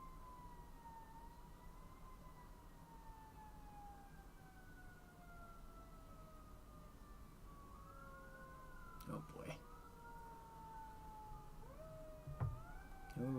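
Sirens from a fire engine and a police car wail outside, rising and falling in long sweeping tones and moving past at a distance, while a person murmurs briefly and some thumps sound indoors near the end.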